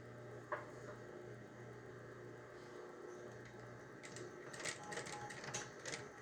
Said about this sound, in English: And then I'm going to stitch all the way across.